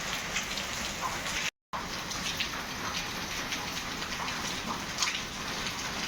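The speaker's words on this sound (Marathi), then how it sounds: "पाऊस पण खूप येतोय" Heavy rain falling steadily outside during a car ride, a dense continuous hiss of drops drumming on surfaces with no voices, broken only by a brief moment of silence.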